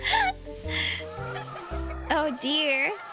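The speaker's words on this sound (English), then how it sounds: "The chickens suddenly let out angry cries." Angry chickens in the Love and Deepspace video game let out agitated clucks and squawking cries in rising and falling bursts, loud and close, over a continuous tonal background.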